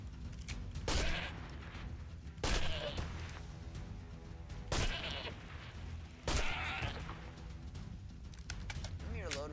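Sheep bleat amid Deer Hunter 1944 game noise while sharp bursts of gunfire crack out at intervals, with voices talking underneath.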